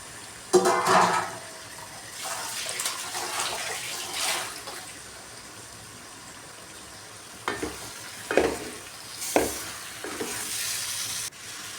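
Intermittent scraping and stirring of chicken with masala in a sizzling pan, with a few louder clatters of a spoon against metal amid a soft, steady fry.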